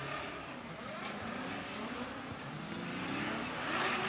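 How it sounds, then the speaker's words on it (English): An LS-powered drift car with a dead cylinder runs at a Formula Drift round, its engine a rough, uneven drone rising and falling in pitch through the slide, heard at moderate distance. "the engine in that donut car sure does sound different"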